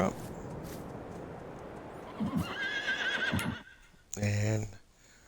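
Horse whinnying in a stable in Farming Simulator 22, a loud close neigh near the end, after clip-clop hooves and softer horse sounds, with someone talking over part of it.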